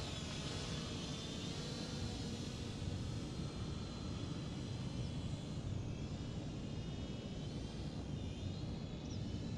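A Holy Stone HS100 drone flies at a distance, giving off a constant, even whirring drone of propellers that holds steady and fairly faint with no talk over it.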